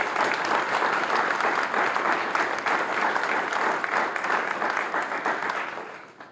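A crowd at an early education announcement applauds the YMCA staff with steady, fairly close clapping that runs evenly for several seconds before fading out.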